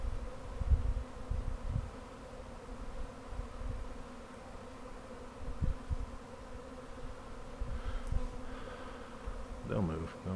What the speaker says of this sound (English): Just start kind of pushing the bees out of the way and slowly.